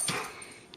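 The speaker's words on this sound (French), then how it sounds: "tabarnouche qui est énervé, le gros chien" Excited big dog giving a short, close whimper indoors, one brief whine lasting under a second with no one talking.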